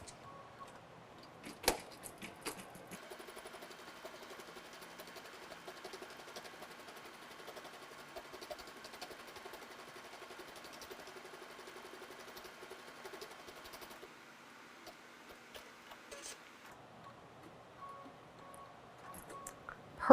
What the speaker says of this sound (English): the first thing that's going to happen is it's going to stitch out a placement stitch for us